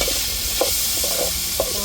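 Bitter gourd and carrot fry in a pan with a steady high sizzle, with a few soft stirring scrapes breaking through at intervals.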